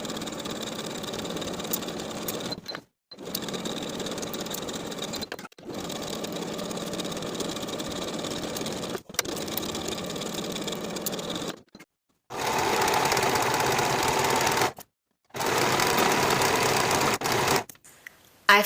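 A sewing machine runs along the side seams of a summer dress in several long, even bursts separated by short silent pauses, close and steady, with no talking.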